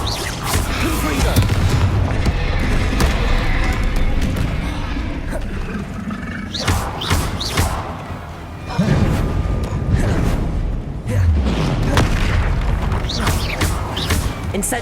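Repeated booming Confringo spell explosions in Hogwarts Legacy combat, loud blasts with crackling tails that stack up continuously among other spell effects, with a voice casting over them.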